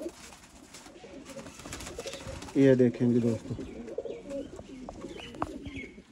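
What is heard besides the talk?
pigeons cooing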